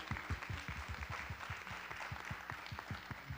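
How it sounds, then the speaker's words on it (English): Audience applause for a young man from a Future Kings program standing up at a faith and genomic research event, steady moderate clapping with a rhythmic low thumping underneath, fairly distant. "Let's give Gideon a round of applause"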